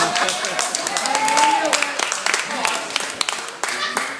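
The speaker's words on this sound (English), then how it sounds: "Everybody give Dave the clap." Audience applause for Dave at a Bishop Kenny High School-style 45th class reunion: a dense, steady patter of many hands clapping, fairly close, mixed with crowd voices and chatter throughout.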